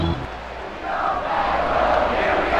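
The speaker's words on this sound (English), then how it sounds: "Well, the crowd's all excited," Crowd noise from a stadium crowd in the MLB 2K5 baseball video game during a Padres versus Astros game, a steady excited roar that swells and stays loud throughout, with no talk.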